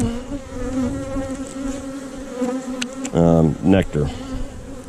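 Honey bees working on comb in an open hive, a close continuous buzzing hum with a few louder passes as individual bees fly near, no voices.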